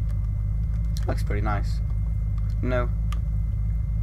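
A yellow ambulance drives in Unturned, its engine holding a steady low rumble that runs unbroken beneath a man's short spoken remarks.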